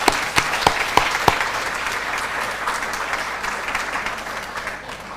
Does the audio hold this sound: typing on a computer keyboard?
no